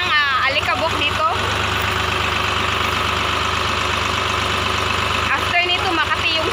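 A tractor engine idles steadily during wheat threshing on a farm, a constant mid-low drone with a knocking edge, joined by brief higher squealing sounds near the start and end.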